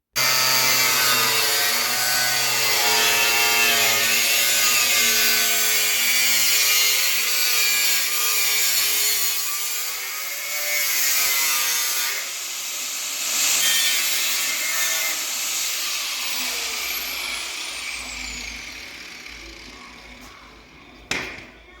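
A car wing panel on a Freelander 2 is cut for a snorkel fitting with tin snips or an angle grinder, giving a loud, continuous, close rasping cut that wavers and gradually fades near the end.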